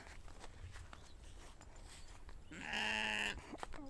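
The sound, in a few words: sheep bleating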